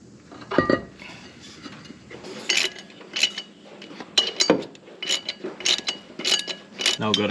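Torque wrench tightening bolts during a four-speed transmission swap on a field-find Pontiac Firebird, a series of sharp ratcheting clicks and metallic clanks in uneven bursts close by, with faint shop noise between.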